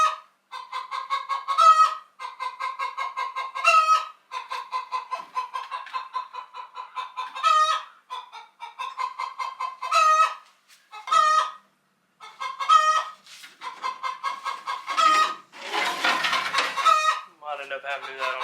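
A chicken in a shop clucks insistently in repeated bursts for a long stretch, close and fairly loud, with a rougher squawk near the end.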